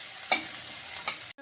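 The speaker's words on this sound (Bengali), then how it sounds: "পেঁয়াজটা আর ভালো মতো করে একটু ভাজা ভাজা করে নেব।" Chopped onions with green chillies fry over medium heat, a steady close sizzle punctuated by two soft stirring scrapes before it cuts off abruptly.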